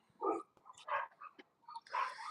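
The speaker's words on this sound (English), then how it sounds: "Those dogs were yapping at us." Several dogs bark in short, sharp bursts near a house doorstep, three loud yapping volleys separated by brief pauses, with no talking over them.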